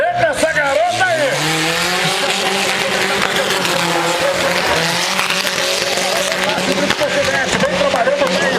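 A car revs hard and drifts, its engine pitch rising and falling with braking and accelerating while tires squeal, loud and close, with voices talking over it.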